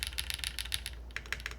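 Rapid, quiet keystrokes on a Fox65 mechanical keyboard click in an uneven stream over a low steady hum, with a brief pause midway.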